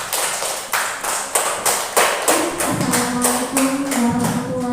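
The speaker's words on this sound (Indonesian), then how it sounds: "Tepuk tangan untuk kita semua." Rhythmic clapping at a school gathering in Indonesia, loud and close, with a steady beat of repeated hand claps and a faint tonal hum rising in the background.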